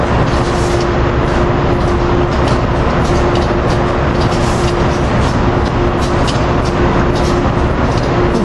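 A CSX freight train hauling intermodal cars rolls past across a river in a steady, continuous wash of wheel and rail noise. A faint tonal hum runs underneath, with no talking.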